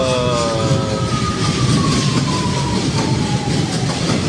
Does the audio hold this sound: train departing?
yes